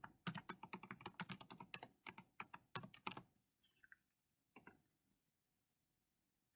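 Rapid keystrokes on a computer keyboard as a password is entered, a dense run of crisp, close clicks for about three seconds, then near silence with one or two stray taps.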